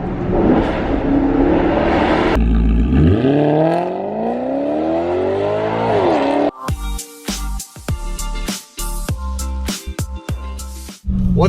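A straight-piped Maserati GranTurismo MC revs hard nearby: a loud engine note climbs in a smooth sweep, then drops off. Choppy, stop-start bursts of other sound follow.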